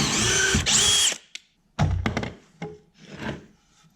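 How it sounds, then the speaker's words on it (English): Drill boring a pocket hole into a wooden board held in a Kreg K4 pocket-hole jig: a loud, close whine of about a second, then a few short bursts and knocks as the bit works and is pulled out. "then you can drill right in here and it'll make a pocket hole into the board"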